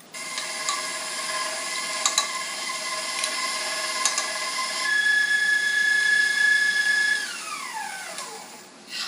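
Electric mixer beating room-temperature unsalted butter into honey walnut torte icing, a steady whirring mechanical drone with a high tonal whine that rises partway through, then winds down as the motor slows to a stop near the end.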